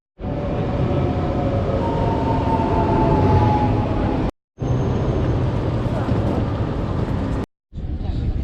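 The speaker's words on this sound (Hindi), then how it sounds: "ट्रेन में बैठा हुआ हूँ, बहुत अच्छी ट्रेन है, डबल स्टोरी है।" Inside a double-decker train travelling from Nice to Monaco, a loud continuous rumble and rattle of the moving carriage fills the cabin, broken by two brief dropouts.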